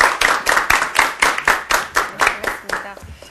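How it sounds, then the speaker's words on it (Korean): A lecture audience claps to welcome a guest lecturer, a short burst of distinct, fairly rhythmic hand claps from a small crowd, moderately loud and steady before tapering off. "큰 박수로 맞아주시기 바랍니다."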